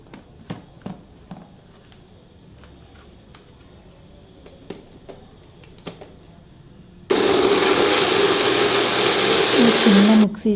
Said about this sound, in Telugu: మిక్సీకి వేస్తున్నాను నేను.